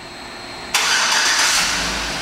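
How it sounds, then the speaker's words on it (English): A 2007 Chevrolet Tahoe LTZ SUV fires up by remote start after a moment of quiet, with a sudden loud catch of the engine settling into a steady, slightly fading idle. "And the car starts right up."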